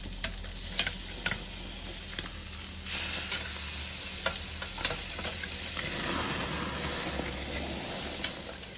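Steak searing in a hot pan, a constant close sizzle with scattered clicks and taps from the meat being turned, no voices.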